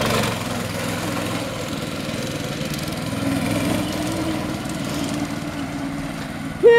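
A go-kart with a live axle and a governed 6.5 hp engine runs at a steady idle throughout. The low, throbbing putter stays close and fairly loud, with no talk over it.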